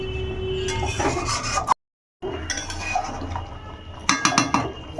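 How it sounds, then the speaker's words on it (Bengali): A spoon stirs mutton curry in a pot, close metallic clinks and scrapes with a wet, bubbling undertone, broken by a brief silent gap partway through. "তো এবার একটু নাড়িয়ে নেব আর একটুখানি ফুটিয়ে নেব"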